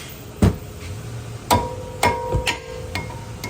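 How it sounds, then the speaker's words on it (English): Sharp metallic hammer blows on a brake rotor in a repair shop, five ringing strikes spaced irregularly, loud and close with no talk. "Hammering the rotor time next."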